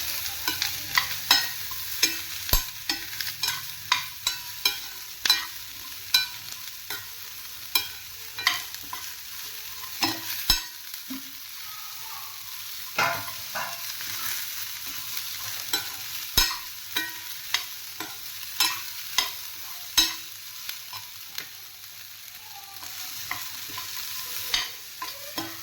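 Onion and tomato sautéing in a pan for a baby jackfruit gravy: a soft, continuous sizzle broken by regular spatula taps and scrapes against the pan, close and without talk.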